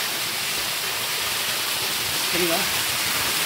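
Water pours down the rocks on Sathuragiri hill in a steady, loud, broadband rush that fills the whole scene, with a voice briefly speaking over it.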